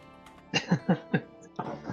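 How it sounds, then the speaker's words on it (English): A character in the video game Greedfall coughs after drinking a potion, giving four or five short, sharp coughs in quick succession, followed by a rougher burst, at moderate volume. "It almost seems she coughs up a little bit"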